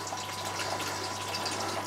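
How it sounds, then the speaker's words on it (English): Water runs steadily from a valve into a water butt in a live blackworm culture setup, giving a continuous, even trickle and splash that stays at a constant close level throughout. "I'm just filling it up now to see how it works"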